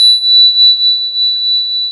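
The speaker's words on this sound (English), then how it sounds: "And with each blessing, I will strike the bell" A meditation bell struck once during a guided healing meditation, ringing out with a clear, bright sustained tone that hangs and slowly fades, alone without talk.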